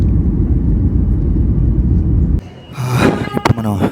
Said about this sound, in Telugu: మొత్తానికి ఎలా అయితే ల్యాండ్ అయింది ఫ్లైట్ సేఫ్